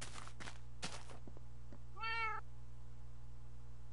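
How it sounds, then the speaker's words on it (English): A cat in the video game Minecraft gives one clear, drawn-out meow in the middle, after a few soft thuds and clicks over a low steady hum. "How are you still meowing? You're in the house."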